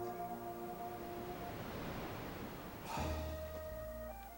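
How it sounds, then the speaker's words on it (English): Waves wash onto a beach in the video game Quest 64, a soft steady surf rush under game music tones, swelling briefly near the end. "Waves crashing on the beach."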